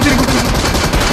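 Gunfire in the battle royale game BGMI crackles as a loud, close, rapid burst of automatic shots, filling the short moment with dense noise.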